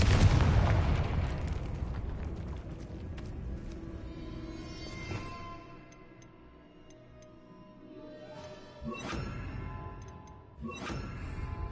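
A Confringo blasting spell in Hogwarts Legacy bursts loudly at the start and fades into rumbling debris, followed by a few sharper crackling impacts later on.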